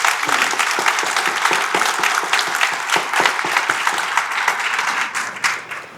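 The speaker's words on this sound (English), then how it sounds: "one more round of applause for our talented students" Sustained applause from an audience at a school district Hall of Distinction induction ceremony, a dense steady wash of many hands clapping for the full length before tapering off near the end.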